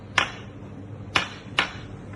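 A travel glass of frothy Ramos Gin Fizz is tapped three times, giving crisp, close knocks roughly a second apart with a quiet pause between each.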